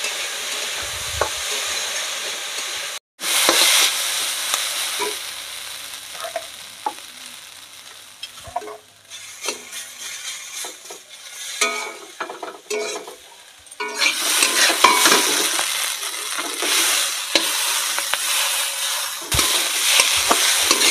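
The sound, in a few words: potatoes, onion and chilli frying in a pan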